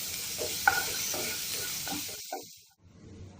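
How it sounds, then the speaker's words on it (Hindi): A small, finely chopped onion fries in hot oil with a loud, continuous sizzle and stirring scrapes, then the sound cuts off abruptly shortly before the end. "मैं यहाँ पर एक स्मॉल साइज का प्याज है जिसे मैंने बारीक काट लिया है, ये मैं ऐड कर दे रही हूँ और इसे हल्का सा फ्राई कर ले रही हूँ"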